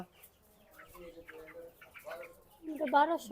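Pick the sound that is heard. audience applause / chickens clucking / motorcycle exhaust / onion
chickens clucking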